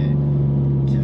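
A naturally aspirated 3-litre V6 car engine holds a steady, loud low drone close by, with a slight rise in pitch and brightness near the end as it begins to pull harder.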